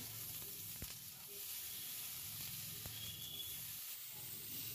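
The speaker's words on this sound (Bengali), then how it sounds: "আর পরিমাণ মতো নুন দিয়ে খুব ভালো করে কষিয়ে নিতে হবে" Turmeric and chili powder with salt fry in a pan with a soft, steady sizzle, faint and continuous, broken by a few light knocks.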